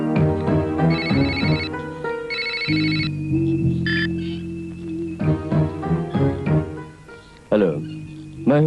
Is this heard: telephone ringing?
yes